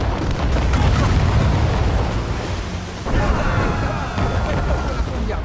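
Heavy naval cannon fire in Assassin's Creed Rogue, booming blasts rolling over a constant roar of sea and battle noise, loud and dense from start to end.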